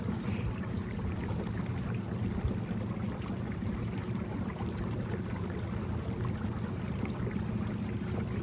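A small Minn Kota electric trolling motor hums steadily as water swishes and gurgles along the hull of a pirogue, a constant close drone with no talking.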